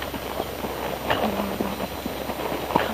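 A horse's hooves clip-clop in an outdoor ring while the rider works it side saddle at a 1956 Cal Poly Pomona Kellogg Sunday show, with steady, moderately close hoofbeats and faint background noise.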